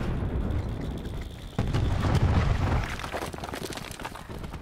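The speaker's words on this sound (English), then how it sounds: "Cluster grenade." A cluster grenade detonates in a Black Ops 4 team deathmatch on Gridlock: one loud, close boom followed by a rumbling tail of smaller blasts, with no talking.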